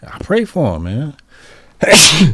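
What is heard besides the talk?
sneeze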